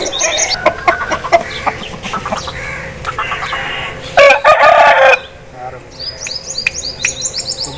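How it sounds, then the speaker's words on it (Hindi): An Aseel rooster crows loudly and close by, a harsh drawn-out call, while smaller chirps and other bird calls sound around it and bits of background chatter come and go. "एक ये मुर्गा है"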